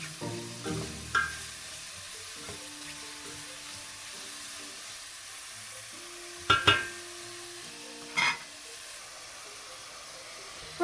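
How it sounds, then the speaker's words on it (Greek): Mushrooms sauté in a hot pan with a steady hiss and sizzle, broken by a few sharp scrapes and clinks of stirring. "Και τα τσιγαρίζουμε και αυτά."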